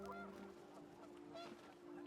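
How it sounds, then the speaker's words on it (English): In the video game What Remains of Edith Finch, a goose honks in a few faint, repeated calls over a steady wind-like background hum, no voices present. "I hear a goose."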